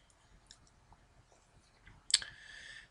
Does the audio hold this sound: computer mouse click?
yes